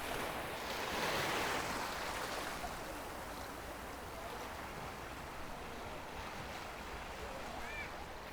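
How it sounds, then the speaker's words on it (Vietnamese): Sea waves washing over a shallow reef off the coast near Quy Nhon, Vietnam, a steady broadband roar of surf with a swell around the first couple of seconds, close and continuous, with some wind buffeting and no talking. "nhưng mà có cái phần sóng"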